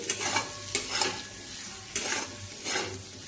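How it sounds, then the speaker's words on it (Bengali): Bitter gourd pieces coated with salt and turmeric fry in a covered pan, giving a steady close sizzle broken by several sharp scraping stirs of a spatula. "করলাগুলোকে আমি ঢেকে ঢেকে প্রথমে ভেজে নেব"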